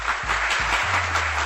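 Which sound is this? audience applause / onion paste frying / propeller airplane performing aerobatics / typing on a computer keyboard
audience applause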